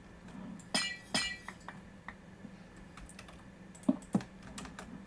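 Glass blocks are placed in modded Minecraft, giving a series of sharp, bright clinks scattered irregularly over a soft hum, with a cluster of closer, louder taps near the end.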